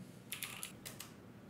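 Quick keystrokes on a computer keyboard as a web address is typed into a browser on a Windows 10 PC, five or six close, crisp clicks in two short bursts, alone over a faint background hiss.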